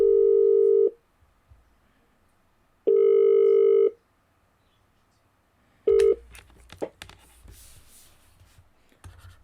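Ringing tones play on a Mitel MiVoice Business phone system as extension 2001 calls extension 6099: two long, loud, steady tones with a gap between, then a cut-off third tone followed by scattered clicks and handling noise.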